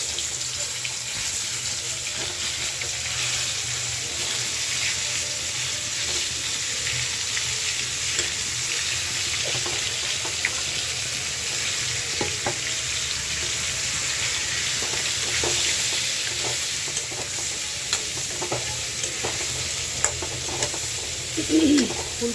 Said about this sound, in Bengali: এখন ফুলকপি আর আলুটা ভাইজা নিই।